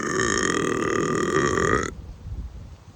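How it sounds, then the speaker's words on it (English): A single long, loud burp rumbles up close for nearly two seconds, then cuts off into quiet room noise. "Confirmation burp."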